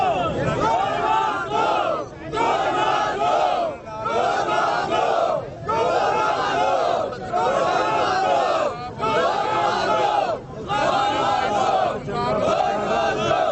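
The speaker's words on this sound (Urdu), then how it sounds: "وہاں پر لوگوں نے بعد میں کیا نعرے لگائے وہ بھی سن لیں" Crowd chanting slogans at a political rally, loud rhythmic shouted phrases repeating in regular bursts with short pauses between, many voices together.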